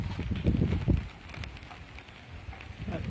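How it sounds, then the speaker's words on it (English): Steady rain falling the day after Hurricane Ian in Orlando, Florida, with a continuous close patter and some gusty rumble of wind across the microphone. "It's still raining."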